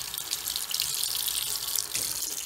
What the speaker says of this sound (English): So we'll just rinse away that stabilizer.